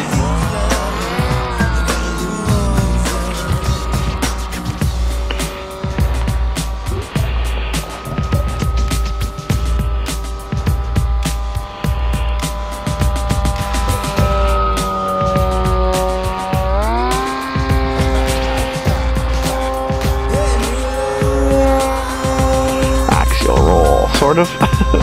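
A MegaFly RC model airplane on its maiden flight makes a flyby, its electric motor whining steadily and loud, pitch rising and falling with throttle changes as it passes.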